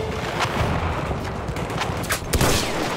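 Rapid gunfire in a World War I shooter game, a quick series of sharp close shots and bursts over a busy battle din, several distinct cracks in a few seconds.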